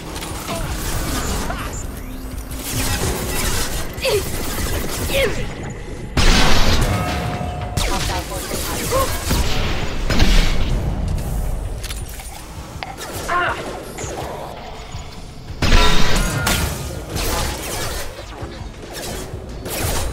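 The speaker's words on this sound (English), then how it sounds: "Shooting!" Gunfire in the video game Mass Effect 2, bursts of shots and booming impacts interspersed with mechanical clatter and whooshes, loud and close, with several heavier blasts standing out amid the combat.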